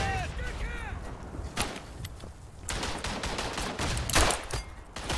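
Gunfire in the trench-combat video game Verdun: several sharp rifle shots burst out at irregular intervals over a noisy battlefield background, with a voice talking faintly underneath.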